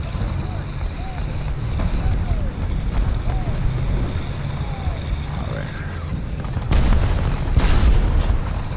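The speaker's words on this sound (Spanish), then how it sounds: "Voy a lanzarle un poquito de artillería" An artillery strike lands in the tank game War Thunder, heard as a low rumbling backdrop followed by a couple of heavy booms near the end, with people talking throughout.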